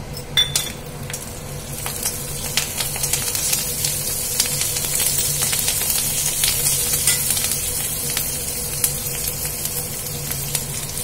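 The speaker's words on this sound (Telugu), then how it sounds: "పోపు కొంచెం వేగిన తర్వాత కరివేపాకు కూడా వేసేసుకుందాము." Curry leaves and tempering seeds crackle and sizzle in hot oil in a pan, a steady frying hiss with scattered sharp pops and the occasional clink of a stirring utensil.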